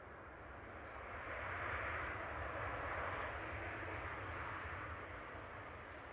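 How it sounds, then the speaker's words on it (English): A Singapore Airlines Airbus A350 comes in to land at Manchester Airport, a faint, broad engine rush swelling and then easing slightly in the distance. "It's Singapore Airlines A350 coming in from Singapore."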